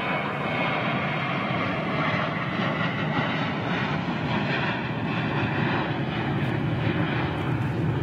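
A Qatar Airways Airbus A380 at Heathrow produces a steady, broad engine roar that holds constant throughout, with no talk over it.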